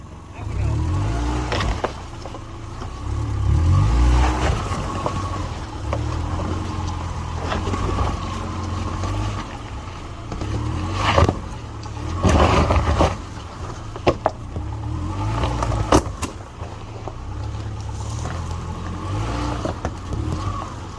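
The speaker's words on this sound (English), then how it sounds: "The Baja's first time touching some traction boards." A Subaru Baja's engine drones and revs as it creeps onto traction boards off-road, a low steady motor rumble with a few louder surges, people talking over it at times.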